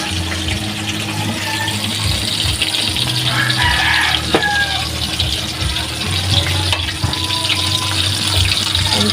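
Chicken fillet frying in very hot oil, a steady dense hiss and crackle that continues throughout with a few brief pops, fairly loud and close.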